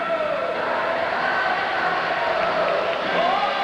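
A sellout stadium crowd in the Houston Astrodome rises for a standing ovation at a 1991 NFL game, a loud sustained roar and cheering that swells and holds throughout.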